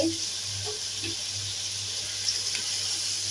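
Water poured into a simmering pot of hilsa fish curry with ash gourd, a steady wash of running, splashing water, fairly close, with faint sizzling beneath and no talk.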